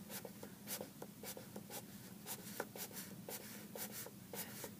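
Colored pencil lays down lines on paper in a steady series of quick, soft scratching strokes, close and faint, with no talking.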